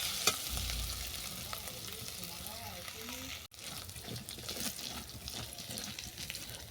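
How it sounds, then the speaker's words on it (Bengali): Grated ginger frying in a pan while being cooked for a stuffed puri filling, with a steady soft sizzle and occasional stirring throughout, faint and continuous. "আদাটাকেও ভালো করে ভেজে নেব।"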